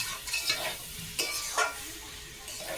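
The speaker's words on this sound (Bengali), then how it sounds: "আলু আর সয়াবিন কিন্তু খুব সুন্দর করে ভাজা হয়ে গেছে, পুরো ভালো সুন্দর করে কষিয়ে নিয়েছি" Potatoes and soya chunks fry in a pan, a close hiss of oil with scraping stir strokes at intervals, the sizzle rising briefly with each turn of the spatula.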